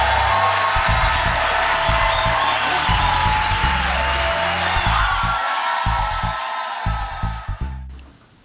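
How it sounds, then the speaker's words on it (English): A live audience at a storytelling show applauds and cheers Yevgeniya Gazman's introduction with dense, sustained clapping that stays loud for several seconds, then thins out and dies away near the end. "give them a big round of applause for Yevgeniya"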